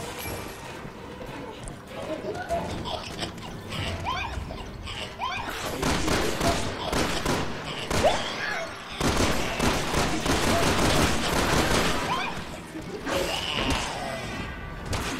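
Gunfire from the video game Resident Evil 6 crackles in dense, overlapping bursts and heavy thumps, loud and continuous through most of the stretch, mixed with game effects and excited talk from players.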